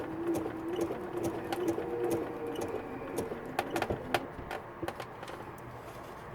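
A sewing machine runs steadily while basting a quilt edge, its needle tapping in a fast, even whir at close range, with a few slower clicks and knocks near the end.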